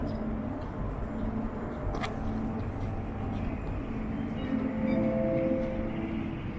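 A Munich S-Bahn train pulls into Markt Schwaben station with a loud, continuous low rumble and rolling rail noise. It swells slightly toward the end, and one brief sharp clank comes early.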